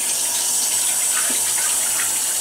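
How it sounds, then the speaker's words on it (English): Tap water runs steadily into a sink while a spoon is rinsed beneath it, a close, even hiss of flowing water with no voices. "Rinse this spoon off."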